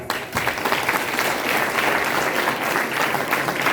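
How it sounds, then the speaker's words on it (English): Loud, dense applause from a theatre audience at a school play competition, steady and sustained throughout without a break. "a huge round of applause"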